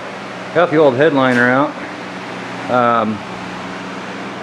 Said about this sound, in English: I got a couple fans running in here